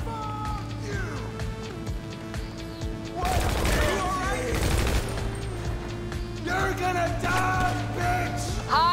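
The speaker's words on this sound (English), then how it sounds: "As long as they still shooting, I know y'all ain't dead." Gunfire from a shootout in the video game GTA Online, with bursts of shots and rapid fire. It starts moderately loud and gets louder and denser midway, over a steady low engine-like drone.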